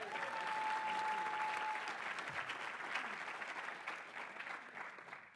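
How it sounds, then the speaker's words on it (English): An audience at an Oxford House workshop and convention event gives a round of applause, steady clapping from a crowd that gradually thins out, with a faint tone early on. "Let's give him another round of applause."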